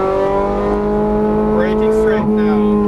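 Ferrari 430 Scuderia accelerating on a race track, a loud, close engine note holding steady and climbing, with a brief tire chirp and a short spoken instruction over the roar.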